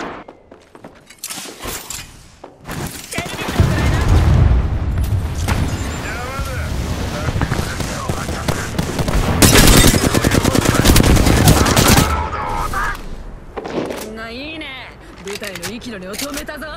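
Gunfire in Apex Legends: repeated bursts of automatic shots and impacts through a busy firefight, loud and close, with a character voice speaking over parts of it.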